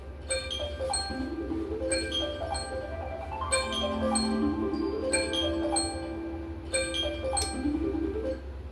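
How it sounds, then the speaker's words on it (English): Kitchen alarm ringing in repeated bursts of bright, tonal beeping chimes, fairly quiet and close, with several rising and falling melodic phrases and no talking. "Okay, I was wondering when that alarm would go off."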